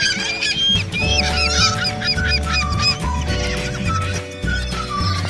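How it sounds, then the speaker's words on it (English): Seagulls crowd around bread dropped in Sugarhouse Park, Salt Lake City, giving repeated loud, nasal honking calls that overlap in a close, busy chorus with continuous noise underneath. "I dropped my bread, and the seagulls dived on it"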